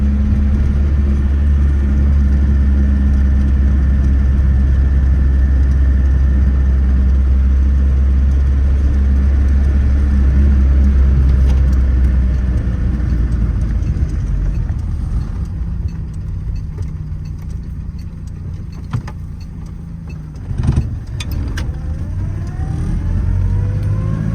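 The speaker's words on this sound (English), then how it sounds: "The engine is a 1911cc 4-cylinder engine." A Citroën Traction Avant Light 15 with a 1911cc four-cylinder engine runs steadily and loud, its low rumble holding for most of the stretch before easing off, with a few sharp knocks near the end.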